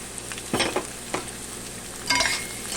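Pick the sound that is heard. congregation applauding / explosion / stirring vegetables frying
stirring vegetables frying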